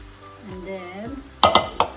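Vegetables for egg noodles stirred as they fry in a pan: sharp clinking scrapes and sizzle arrive in quick bursts after a voice speaks.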